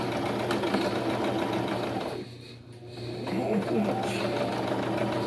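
A sewing machine stitches a fabric Christmas tree with a steady mechanical whir, pauses briefly in the middle and then starts running again, while a person talks over it.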